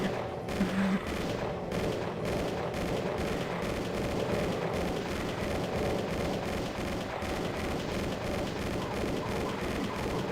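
Rapid, relentless video-game gunfire in a DOOM session, dense bursts of shots and booming blasts hammering on without pause at close, loud range.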